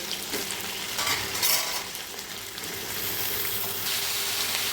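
Potatoes and ridge gourd fry in a pan on low gas, producing a continuous crackling sizzle broken by scraping stirs of a spatula, close and steady throughout.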